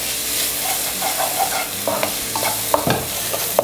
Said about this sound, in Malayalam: നമുക്കിതിലേക്ക് തക്കാളി ചേർത്ത് കൊടുക്കാം.